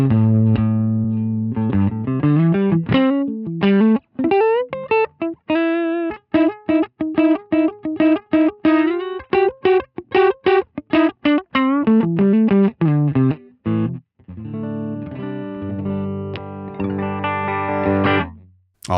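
A distorted electric guitar on its neck pickup runs through a Line 6 Helix amp model, playing a long, dry phrase of picked notes, bends and short chord stabs with clear gaps between them.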